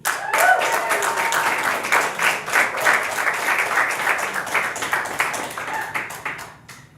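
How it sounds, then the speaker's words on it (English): An audience at a storytelling event applauding as the next storyteller comes up, dense clapping that starts abruptly, holds steady for several seconds, then thins and fades out. "Welcome with a big round of applause our friend and next storyteller, Patty."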